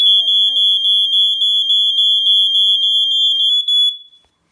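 A Fire Angel CO-808 carbon monoxide alarm and a Status GNS-366 photoelectric smoke alarm sound together indoors, a loud, piercing, rapidly pulsing high electronic beep that continues steadily for about four seconds and then stops, with a brief low voice at the start.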